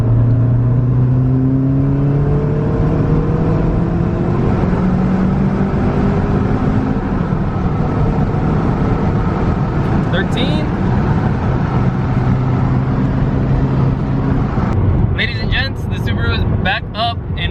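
A turbocharged Subaru WRX engine with aftermarket headers roars under hard acceleration at 12 PSI boost, its pitch sweeping upward through the gears, loud and close with faint turbo whooshing, ending with a few brief clicks.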